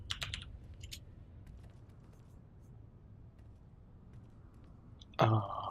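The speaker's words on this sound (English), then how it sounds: "I'll type it" Quick bursts of computer keyboard typing at a home PC during a Star Wars: The Old Republic gaming session, with clustered clicks near the start fading to sparse faint taps, then a short louder tone at the end.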